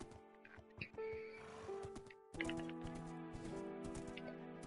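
A horse in a video game neighs in drawn-out whinnies, with clip-clopping and game sound effects around it, fairly loud and close over a tonal game soundtrack.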